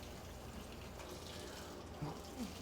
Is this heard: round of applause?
no